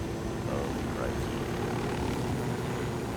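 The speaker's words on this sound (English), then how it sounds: "me flying off into the sunset with my ghost in our Santa Muerte helicopter" The Santa Muerte helicopter in Ghost Recon Wildlands gives off a steady, dense rotor and engine roar that fills the whole stretch without letup.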